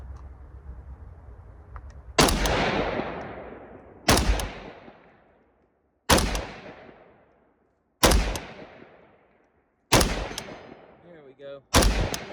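Valmet M76 AK rifle fired at an outdoor range, five loud single shots spaced about two seconds apart, each with a long echoing decay; someone speaks briefly near the end.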